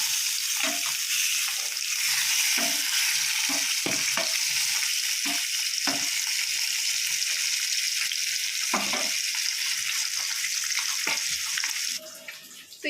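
Food cooking in a frying pan sizzles steadily and fairly loudly nearby, with scattered clicks and scrapes of stirring, before the sound drops near the end.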